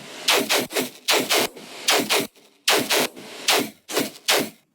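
Brostep synth bass chugs programmed in the Vital synthesizer, punching out in tight rhythmic bursts of two and three, loud and gritty with short gaps between groups, no talking.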